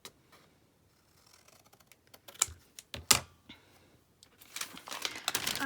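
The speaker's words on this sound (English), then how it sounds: "which I'll just cut with a pair of scissors." Quiet crisp snips and rustles of scissors cutting homemade Christmas wrapping paper build up, with a few sharp clicks, followed by a burst of denser crinkly cutting at the end.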